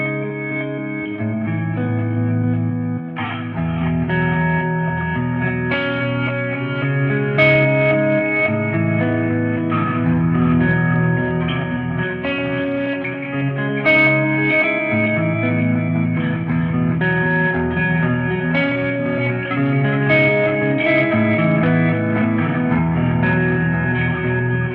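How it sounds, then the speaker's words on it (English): An electric guitar runs through a Hotone XTOMP pedal set to room reverb and a buck mask delay, with sustained chords and picked notes trailing into dense, loud ambient echoes, no voices. "We're using the room reverb and the buck mask delay, or the echo."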